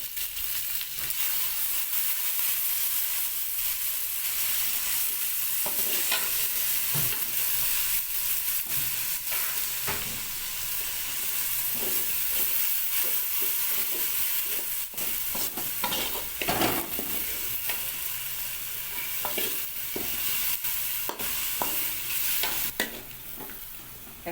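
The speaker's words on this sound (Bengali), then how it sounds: "টমেটোগুলো কে করা হচ্ছে মিক্স করা হচ্ছে মশলার সাথে" A spoon scrapes and stirs through egg and potato curry with tomatoes and spices in a hot pan, with a steady sizzling hiss and irregular clattering strokes, close and continuous.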